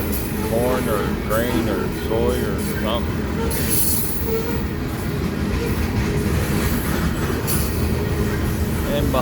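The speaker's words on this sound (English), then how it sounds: "then behind it is the Eastbound Manifest rolling." An eastbound manifest freight train rolls by up close in Nebraska, a loud, steady rumble of railcars with rhythmic wheel clacking and faint squeals, while a voice briefly talks over the noise early on.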